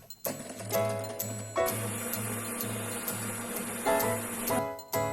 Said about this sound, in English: I whisked on low medium to medium high until I reached a stiff peak